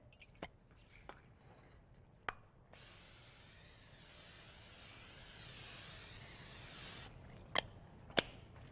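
Cooking spray hisses into a 9 by 13 casserole dish in one continuous burst of about four seconds, with soft clicks and knocks from handling the can before and after.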